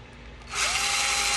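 A power drill bit boring into a piece of wood for a propeller-blade modification, starting after a half-second of quiet and then whining loud and steady right up close, with no talking.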